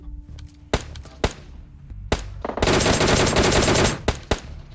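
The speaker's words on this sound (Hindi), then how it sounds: "उससे पहले गनशॉट की आवाज सुनो" Automatic gunfire sprays in a battle royale video game, with several single sharp shots, then a sustained burst of rapid fire lasting over a second, then more isolated loud shots, all close and punchy.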